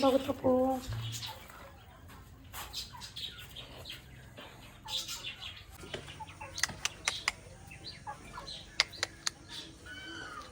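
Chickens cluck and squawk intermittently nearby, with sharp bird calls scattered through the clip while people talk in the background.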